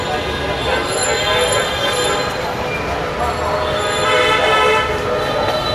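Dhaka metro train at Mirpur 10 station, a steady loud rumble of the train with a sustained horn-like tone running through, close and continuous.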